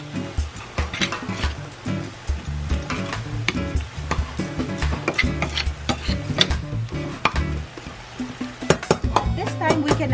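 Chicken with a splash of fish sauce being stirred and mixed in a pan, with steady scraping and clattering utensil strokes over a soft sizzle, loud and close throughout.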